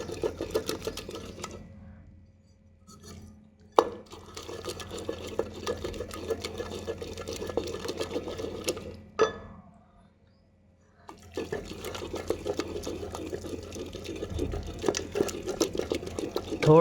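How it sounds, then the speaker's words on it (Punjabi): Boiled eggplant for Punjabi baingan bharta, cooked with a little water and ghee, mashed with a wooden madhani churner: rhythmic wet churning and squelching in bursts, with brief pauses and a couple of sharp knocks. "ਮੱਧਣੀ ਨਾਲ ਇਹਨੂੰ ਆਪਾਂ ਘੋਟ ਲਾਂਗੇ ਸਾਗ ਤਰ੍ਹਾਂ ਘੋਟਿਆ ਜਾਊਗਾ"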